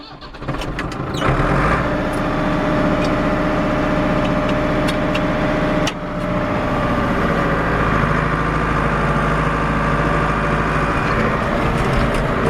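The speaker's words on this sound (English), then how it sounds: "First, we'll start the tractor." Farm tractor engine cranks and catches, then settles into a steady, loud idle. A low mechanical rumble continues close by, broken only by a brief dip partway through.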